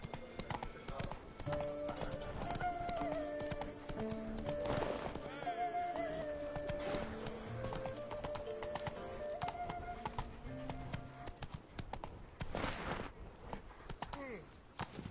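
Roach, a horse in The Witcher 3 Blood and Wine, gallops with brisk repeated hoofbeats under game music, punctuated by a couple of loud whinnies or snorts, sustained and close throughout.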